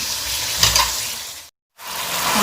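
Chicken pieces sizzle and fry in a pot of hot oil while being browned for biryani, a steady close crackle with a brief stirring clatter, then a short silent gap before the frying resumes.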